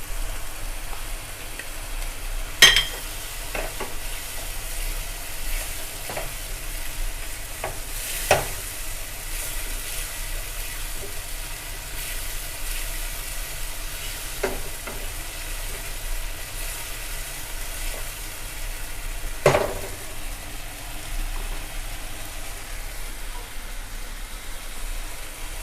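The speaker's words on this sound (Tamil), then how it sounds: "தக்காளி கொஞ்சம் வதங்கட்டும்." Tomatoes sautéing in a pan for prawn thokku, a soft steady sizzle with a few sharp spoon taps and scrapes spaced far apart over a low background hum.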